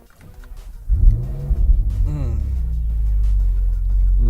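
A Ferrari 458 Spider with its naturally aspirated 4.5-litre V8 pulls away, a deep engine note rising as it revs up and then settling into a loud, steady drone heard from inside the car.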